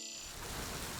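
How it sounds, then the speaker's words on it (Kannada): Heavy rain pours down steadily in a dense, even hiss with no pauses, loud and close, alone without any voices. "ಏನ್ರೀ ಇಷ್ಟು ಜೋರಾಗಿ ಮಳೆ ಬರ್ತಿದೆ?"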